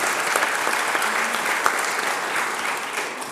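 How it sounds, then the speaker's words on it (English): An audience at an award ceremony applauds warmly, a dense, continuous roar of clapping with a few sharper claps, fairly loud and even throughout. "please give them both a big round of applause as well"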